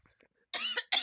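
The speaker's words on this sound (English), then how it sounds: "I didn't want to cough into my mic" A person coughs twice into a microphone, two sharp close bursts after a faint throat noise, with no talk.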